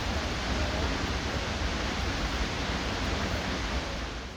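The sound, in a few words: waterfall in Iceland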